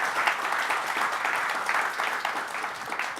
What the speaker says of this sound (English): So can we get a round of applause for our panelists?